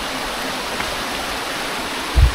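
A mountain stream on the Napittachora trail in Mirsarai flows steadily nearby with a constant rushing, splashing texture and a brief low thump near the end.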